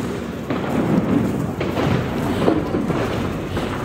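Diwali firecrackers burst in a dense, continuous crackle with repeated thuds and pops at a steady, loud level, sounding close by and carrying no talk over the roar.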